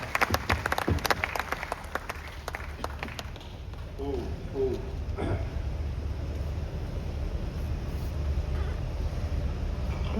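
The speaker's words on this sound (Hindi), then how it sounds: "आज के संदर्भ में अपना अनुमोदन में जोरदार तालियां उनके लिए बजाएं" Audience applause for Governor Acharya Devvrat at a Haryana government natural farming seminar in Hisar: dense clapping for about three seconds, then fading into a steady hum of crowd noise and room murmur.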